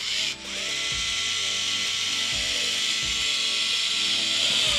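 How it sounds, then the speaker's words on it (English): A single flute countersink spinning in a power drill to deburr drilled holes in a practice aircraft kit, giving a steady high whine with faint repeated cutting chatter, close and continuous after a brief start. "So we're going to deburr those just with a little countersink,"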